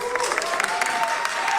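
Applause from an audience at a political event, a brief stretch of clapping and crowd noise with a faint voice or tone running underneath.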